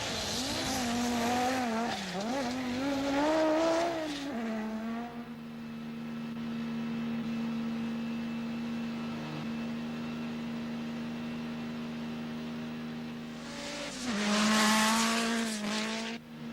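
Rally cars climb through Pikes Peak qualifying, including Peugeot 205 Evolution 2, Golf twin-engine, Quattro Sport and Delta S4 machines. Engines rev hard and shift at close range, then a sustained drone holds before another screaming pass surges in. No voices.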